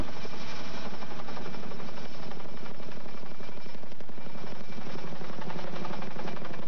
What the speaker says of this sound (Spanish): Un helicóptero del ejército de Estados Unidos fue enviado para transportar los restos.